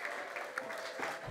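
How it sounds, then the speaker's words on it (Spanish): Quiet applause from an audience at a flamenco show in Spain, brief scattered clapping heard at low level, fairly distant. "Un aplauso para nuestro querido Pedro de Paul"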